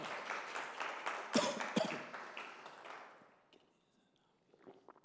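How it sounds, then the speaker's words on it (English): A small audience at a data science event in Antwerp claps in a short patter that rises, peaks and dies away over a few seconds, followed by faint room noise. "Give a big applause, please"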